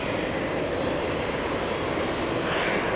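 An Air Canada airliner moves on an airport runway, giving a steady, loud broadband engine roar that holds constant throughout with no voices.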